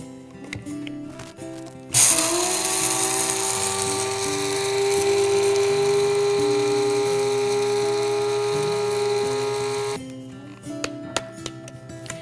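An electric grinder grinds an egg-replacement ingredient for Christmas jar cookies, a loud, steady high-pitched whir for about eight seconds, starting abruptly and cutting off cleanly, with quiet kitchen noise before and after.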